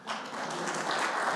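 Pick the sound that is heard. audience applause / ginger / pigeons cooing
audience applause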